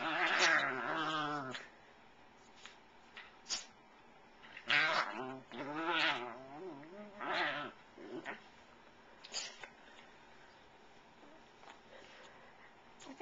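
A cat yowls and a dog growls in bursts during a play-fight, with quieter gaps and small thumps between the louder, wavering cries.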